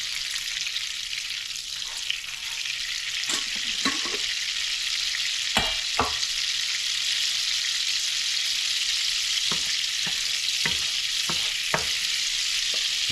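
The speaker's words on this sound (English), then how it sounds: "Just low, let this butter melt in here." Butter melting over low heat in a pan gives a steady, close sizzle with a hissing wash, broken now and then by sharp clicks and taps, and no talking.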